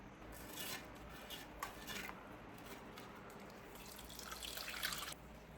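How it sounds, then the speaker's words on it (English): Salt water pours and splashes steadily into a pan, a continuous close trickle that grows slightly louder and splashier toward the end. "I'm gonna pour the salt water in here because I want to use this pan."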